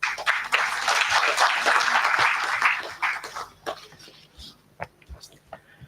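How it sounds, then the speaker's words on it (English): A conference audience gives a speaker a warm welcome with brisk applause that swells, then thins to scattered claps and shuffling as it dies away. "Please join us in welcoming him with a warm round of applause."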